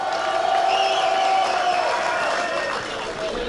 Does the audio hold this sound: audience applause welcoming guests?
yes